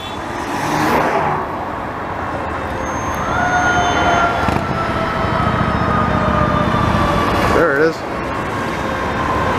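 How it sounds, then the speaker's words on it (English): Sirens of a fire truck and an ambulance wail and warble over Montreal road traffic noise as they pass, with a vehicle engine rumbling close by. "A fire truck and I think an ambulance both coming at the same time."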